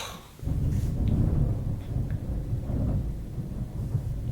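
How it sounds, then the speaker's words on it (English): Low rolling thunder rumbles steadily in the background with a faint hiss of rain, starting just after a short quiet moment and continuing without a break. "you hear the thunder in the background when I rolled the dice"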